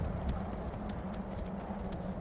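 Horse hooves in the video game Skyrim, a faint, steady clip-clop of hoofbeats over a low rumbling background, continuous and without voices.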